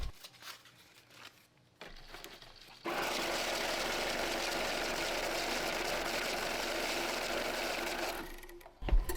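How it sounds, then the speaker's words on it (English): Electric money counter running a stack of one-dollar bills from vending and claw machine collections, giving a steady, loud whirring rush for several seconds after quieter handling sounds, then stopping. "we're going to run that stack of ones to the money counter"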